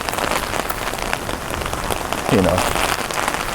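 Steady rain falls on a street in Tokyo, a dense even hiss of drops spattering on surfaces that runs unbroken and fairly close throughout, with a brief faint voice murmuring underneath near the end.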